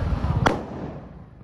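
A firecracker goes off during Diwali, a single sharp bang followed by a fading crackle and rumble, with low outdoor noise underneath and no talk.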